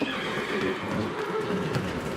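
A mare whinnies loudly on a farm during foal weaning, one sustained neigh carrying close and clear over the whole moment, alone without voices.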